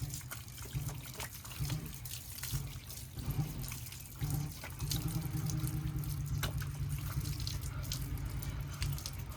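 Tap water runs steadily into a sink as someone washes their face, a continuous close splashing flow with a few louder surges and no talk over it.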